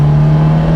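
A Fiat X1/9 fitted with a Uno Turbo engine revs hard close by, a loud, steady engine drone with a strong low hum through a brief burst.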